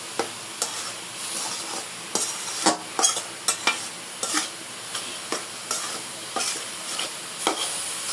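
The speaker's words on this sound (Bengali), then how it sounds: "নাড়াচাড়া করে ভালো করে মিশিয়ে দেব" Kolai greens (shak) fry in a pan with a continuous sizzle, while a spatula stirs and scrapes them in sharp, repeated strokes roughly every half second to second.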